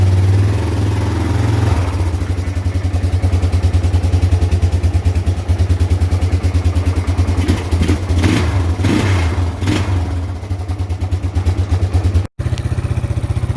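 A Yamaha Warrior 350 ATV, freshly fitted with a new stator and serviced with fresh oil and filter, idles and revs steadily up close, its rough, pulsing engine note running throughout with a few throttle blips near the end.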